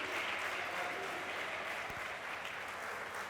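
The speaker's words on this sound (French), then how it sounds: "On applaudit très fort pour les évaristes." An indoor audience applauds steadily for a few seconds, a dense wash of clapping that stays fairly faint and even throughout.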